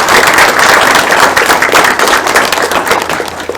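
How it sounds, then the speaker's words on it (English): Loud, close applause from an audience at an indie game panel event, with dense overlapping claps and some sharp nearby hand slaps, sustained before tapering off at the end. "give a big round of applause for everyone"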